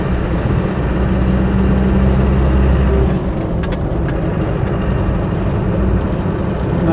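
A Land Rover 90 County Station Wagon with a 200TDi diesel engine, heard from inside while driving as a loud, steady low-pitched drone, with a tonal hum that drops away partway through as the load changes.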